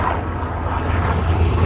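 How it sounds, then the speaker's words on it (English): An aircraft drones overhead, a steady, fairly loud engine hum with low rumbling tones that persists without pause for the whole short stretch. "Another helicopter."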